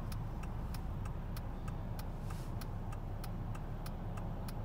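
Steady road traffic on a busy Saturday street in Connecticut, with cars rolling past as a constant broadband wash and a faint regular ticking throughout.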